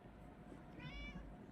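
A cat meows in the Minecraft video game, a soft, high, wavering in-game mew rising near the end over a low, steady background hum.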